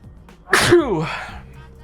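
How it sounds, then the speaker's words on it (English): A single sharp, close sneeze bursting out and trailing off into a brief breathy tail. "I'm gonna sneeze."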